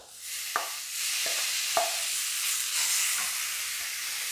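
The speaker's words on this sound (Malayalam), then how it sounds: "ഇതിലേക്ക് നമുക്കൊരു ചെറിയ തക്കാളി ഇട്ട്" Tomato added to beef curry masala frying in a pan for a Kerala-style roasted-coconut beef curry, giving a steady close sizzle and hiss with a few soft stirring clinks.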